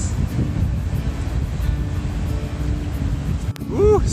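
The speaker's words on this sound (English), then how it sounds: "it's windy today" Steady outdoor wind roars and buffets the microphone on a street in Marceline, a continuous broadband rush with a few faint higher tones and a brief vocal whoop near the end.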